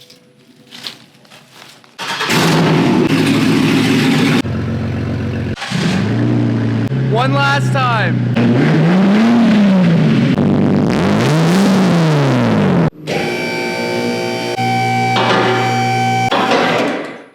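A car with a cut exhaust and its catalytic converter left in place starts and revs hard, loud and close, in repeated rising and falling surges that build to a sustained roar, with brief talk at the start.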